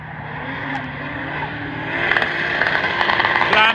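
A BMW drift car's engine drones and revs at a drift practice track, rising louder partway through with crackling bursts, heard from a distance amid other cars, with some faint voices.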